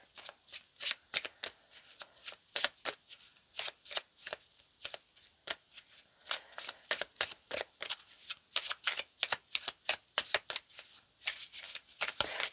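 Playing or oracle cards shuffled and pulled from a deck, a long run of crisp, rapid riffling and snapping taps up close, steady and unbroken with no voice.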